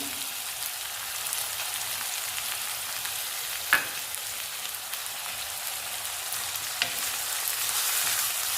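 Capsicum, carrot and ginger fry in hot oil for egg rice, a steady close sizzle that hisses on evenly throughout, with a couple of faint clicks from the pan and no talking.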